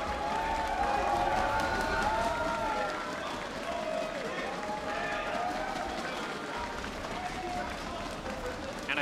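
A live esports crowd applauds and cheers during team introductions for a League of Legends World Championship play-in match at LoL Park in Korea, a steady roar of clapping under continuous announcer talk.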